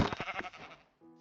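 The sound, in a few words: sheep bleating in a video game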